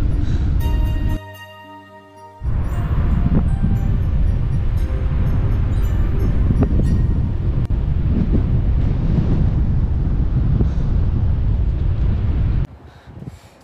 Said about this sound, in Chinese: 现在起风了